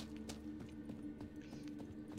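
Horse hooves clip-clop in The Witcher 3 video game, a steady run of regular hoof beats, fairly quiet, over a constant background hum, with no talk.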